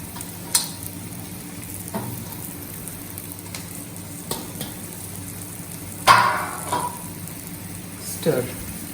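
Stuffed bhindi (okra) frying on a slow flame, a soft steady sizzle broken by several scraping, clattering stirs of a spatula against the pan, with brief speech nearby.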